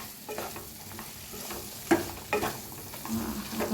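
Green chillies fry in a pan with two spoons of crushed peanuts stirred through, giving soft sizzling and irregular scraping knocks of the spoon at close range.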